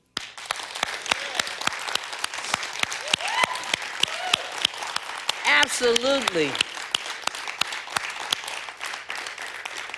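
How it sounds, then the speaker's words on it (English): An audience giving veterans a standing ovation at a church service in Las Vegas, steady rhythmic clapping throughout, with a voice speaking briefly over it midway. "And we're going to clap like we mean it."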